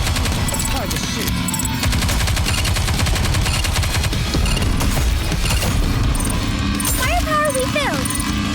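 Gunfire in Goddess of Victory: NIKKE rattles in loud, steady automatic bursts for the whole stretch, with mechanical clicks and game voices speaking over the shooting.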